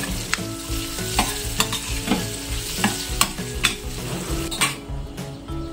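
Turmeric and curry leaves are stirred through a hot tempering in a pan for buttermilk rasam, with a steady sizzle and repeated scraping and clinking of a spoon against the pan, close and fairly loud.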